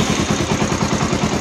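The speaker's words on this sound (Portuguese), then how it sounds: "Vamos ligar a moto." A Honda NX 400 Falcon motorcycle with a battery-draining fault has its engine started, a loud, close, rhythmic putter of a single engine running evenly.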